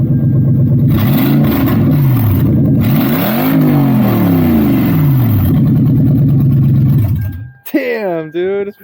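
A broken Lexus LS430 engine revs hard and loud, pitch sweeping up and down repeatedly as the VVT-i kicks in, then cuts off abruptly before a brief higher whine near the end.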